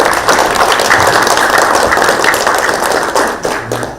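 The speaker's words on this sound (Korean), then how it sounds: "환영의 박수 부탁드리겠습니다." A crowd at a political event gives dense, loud welcoming applause, a steady roar of many hands clapping that tapers slightly toward the end.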